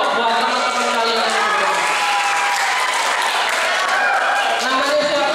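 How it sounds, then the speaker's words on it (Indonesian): Students clap together in sustained, dense applause inside a school hall during a disaster drill at SMP Negeri 10 Surabaya, with voices murmuring underneath. "Tepuk tangan dong buat teman-teman kalian."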